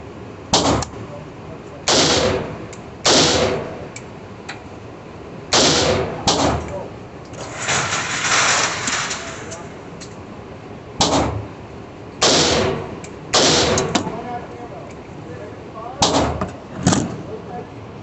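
An Ace Galil rifle fires about a dozen single shots during a function test, sharp loud cracks spaced a second or two apart with some louder ringing in between, and someone talks at times.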